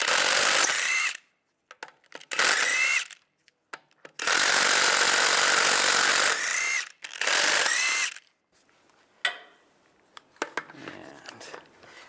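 A power tool with a 17mm socket spins the lug bolts off the front wheel of a 1999-2005 Volkswagen Jetta, giving several loud, close whirring bursts of varying length separated by short pauses and clunks.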